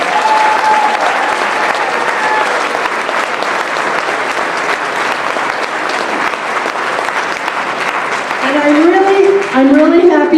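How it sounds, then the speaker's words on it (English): Sustained applause from a large audience at an awards dinner, a dense even wash of clapping throughout, with voices rising near the end as the clapping continues. "Let's give everybody a round of applause all together."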